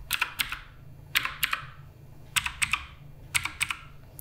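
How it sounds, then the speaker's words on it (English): Typing on a Redragon K588 Broadsword mechanical keyboard, with crisp, close key clacks in short bursts of three or four strokes separated by brief pauses, over a low steady hum. "I think you can hear it. But this keyboard's a lot less metallic."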